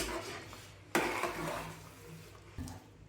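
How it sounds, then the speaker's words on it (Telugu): Spoon scraping and knocking in a pan of thick semolina upma dough cooked with ghee, with a sharp metallic clank near one second and another near two and a half seconds, close and moderately loud. "ఈ విధంగా బాగా దగ్గర పడే వరకు మనం కలిపి స్టవ్ ఆఫ్ చేసుకోవాలి"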